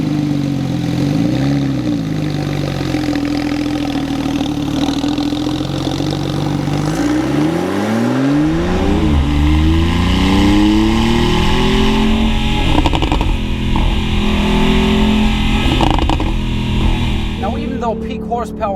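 Porsche 911 GTS engine revving hard while driving, rising and falling pitch sweeps as it climbs through the revs, loud and continuous with a gear change midway and some road and wind noise.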